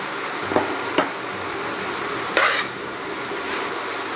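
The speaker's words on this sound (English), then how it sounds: "So zucchini and asparagus are nicely sauteed." Zucchini and asparagus sautéing in a pan give a steady close sizzle, broken by a few sharp scrapes and clicks of a spatula stirring against the pan.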